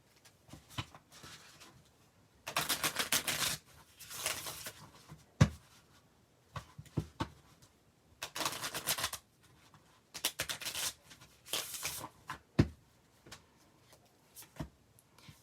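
Cards are shuffled in several quick bursts of riffling and snapping during a bingo-style number-calling game, separated by short pauses, close and fairly quiet.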